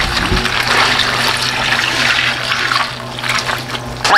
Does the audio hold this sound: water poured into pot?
yes